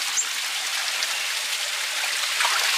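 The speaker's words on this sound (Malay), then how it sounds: "Oh, ini ada air terjun guys." A small waterfall in a forest gives a constant broad rushing splash, fairly loud and near, steady throughout, without talk.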